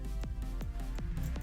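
Computer mouse buttons pressed far too hard while drag clicking, four evenly spaced dull clicks with low thumps over a steady background hum, quiet and close.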